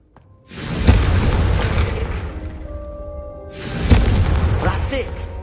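Two booming fiery blasts from the Confringo spell in Hogwarts Legacy, each a loud burst that rumbles and fades, the second following about three seconds after the first.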